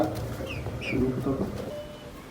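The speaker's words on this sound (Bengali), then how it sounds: "মুরগিগুলো ভালো জাতের মুরগি" Soft clucking and murmuring of Brahma chickens under low background noise, with brief faint talk nearby.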